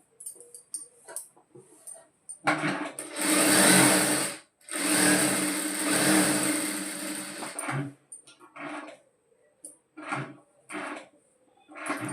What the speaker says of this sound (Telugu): ఇప్పుడు back part lining main part కలిపి స్టిచ్ వేసుకుందాం